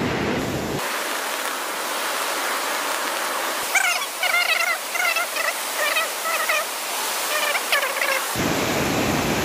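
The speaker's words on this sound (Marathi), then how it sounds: "आणि या डोंगर रांगामधून अशी प्रचंड वेगाने वाहणारी ही नदी." The Lohit river races down from the mountains of Arunachal Pradesh as a loud, constant, broadband roar. Midway, a series of repeated gobbling, turkey-like bird calls rises briefly above the rushing water.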